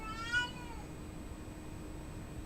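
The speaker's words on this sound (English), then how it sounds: "Cat's having a proper go." A cat meows unhappily, a single short, fairly faint cry at the start, then only a steady low room hum.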